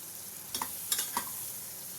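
Chopped vegetables being stirred and sautéed in a pan give soft sizzling under a few sharp scraping clinks of the spoon against the pan, with no talk.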